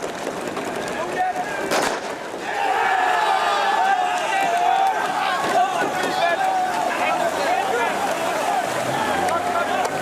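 Crowd on the deck of a sailing boat at a traditional skûtsje sailing race, scattered clapping and cheering at a distance, with a commentator talking over it and wind noise throughout.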